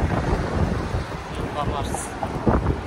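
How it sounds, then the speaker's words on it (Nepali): Strong wind buffets the microphone at Haeundae beach in Busan, a loud continuous roaring rumble with gusts, while people talk faintly underneath. "कस्तो हावा चलिरहेछ"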